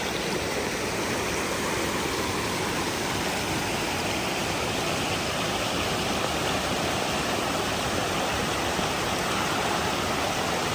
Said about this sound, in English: Middle Creek Falls.